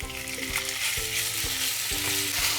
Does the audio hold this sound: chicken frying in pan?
yes